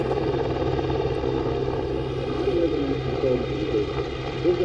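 A CH-149 Cormorant search and rescue helicopter's steady rotor and engine drone fills the air at a moderate distance, continuous and unbroken, with faint voices underneath.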